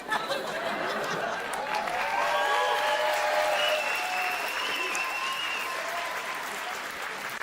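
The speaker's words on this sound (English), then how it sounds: "Why are you guys clapping?" A comedy club crowd claps and cheers throughout, loud and continuous, with scattered laughter and chatter mixed in and a voice speaking over it.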